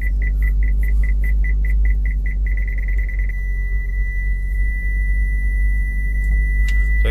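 A Maruti Suzuki Baleno car reversing: a steady engine idle rumble with a rapid repeating reverse beep that turns into a continuous tone, close and loud, with no talking.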